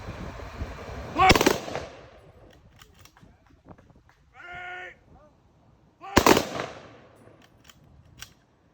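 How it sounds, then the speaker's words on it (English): An honor guard's rifle volley salute at a funeral tribute: two loud, sharp volleys spaced several seconds apart, with a faint bugle-like tone and scattered small clicks between them. "Ready? Aim. Fire."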